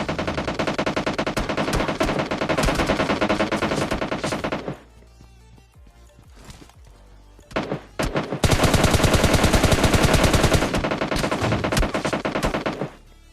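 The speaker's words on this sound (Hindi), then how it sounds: "तुमने गोलियों की आवाज सुन ली होगी, मतलब सामने बंदे हैं" Rapid automatic gunfire in a PUBG match rattles in long, dense bursts, breaks off into a few scattered shots and a brief lull, then resumes in another sustained loud burst.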